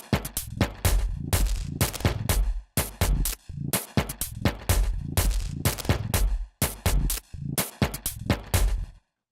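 A programmed drum beat in Logic Pro with automated reverb on a bus send, punchy kicks and snares in a steady repeating groove, hits blooming into swelling reverb tails that pulse in and out, loud and alone.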